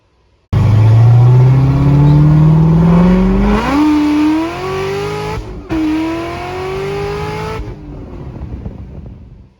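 A car engine fitted with ProEFI fuel injection revs hard and climbs steadily through the gears with traction control on, loud and close, with a brief dip at each shift before it fades.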